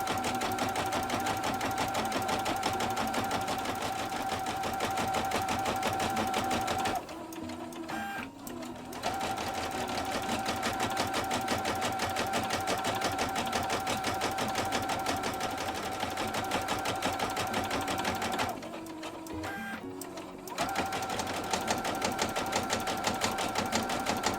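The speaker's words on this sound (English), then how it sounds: "Stitch around this fabric to put the simple lines that's going to create the maze." A sewing machine stitches simple maze lines around fabric for a quiet book page. It runs in a steady, dense whir that stops twice briefly as the work is repositioned, and no one speaks.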